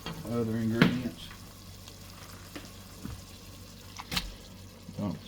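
Onions and celery cook in melted butter in a pot, making a soft, steady sizzle with occasional stirring scrapes and utensil knocks. A brief voice sounds near the start.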